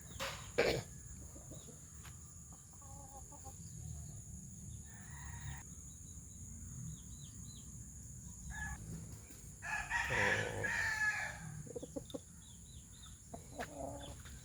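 Backyard roosters, one with a fanned tail, crow faintly at a distance over low steady background noise, with a fuller crow rising midway and a few short calls scattered around it.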